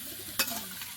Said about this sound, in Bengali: চিনি, আম একসঙ্গে মাখিয়ে নিতে হবে।